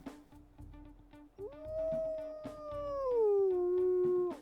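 A higher-pitched wolf howl in the video game WolfQuest swells upward, holds, then slides down to a lower pitch near the end, loud and clear over quiet game ambience with light ticking sounds.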